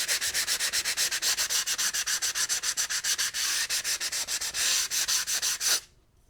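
Hand sanding along a glass edge gives steady, rhythmic back-and-forth rasping strokes, close and even, about two per second, stopping abruptly near the end.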